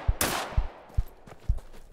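Gunshots in the Deadside multiplayer shooter video game, five sharp punchy reports at uneven intervals, with a louder crack near the start and fainter thuds after it.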